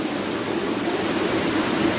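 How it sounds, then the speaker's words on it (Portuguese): A natural waterfall at Lago Azul in Alcaçuz, Rio Grande do Norte, fed by overflow from the lagoons in winter, gives a steady, dense roar of rushing water with no voices. "Estamos aqui na Cachoeira do Lago Azul, aqui é a cachoeira natural."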